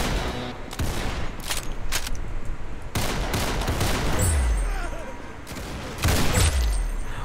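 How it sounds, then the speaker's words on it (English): Shotguns fire in rapid bursts in a Roblox Arsenal match. The blasts are loud and close, with sharp booms spaced a second or two apart and a player's voice talking over them. "Shotgun pang malayuan"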